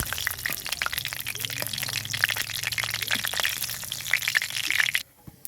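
Asafoetida and whole spices frying in hot oil for amla pickle, a steady close sizzle and crackle throughout with occasional stirring scrapes, cutting off abruptly near the end.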